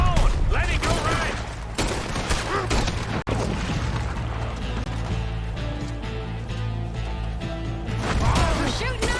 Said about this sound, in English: We're shooting our way out of here, boys!